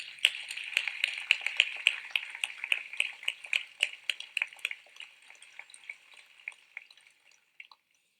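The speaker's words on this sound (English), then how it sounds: "I think that deserves a round of applause." Audience applause at an outdoor graduation ceremony in a Greek theater: dense, crisp clapping that stays steady for several seconds, then thins and tapers off to a few scattered claps near the end.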